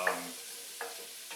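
Vegetables softening in bacon fat for a sirloin beef stew: a faint, steady sizzle with a few soft stirring scrapes, heard quietly and alone.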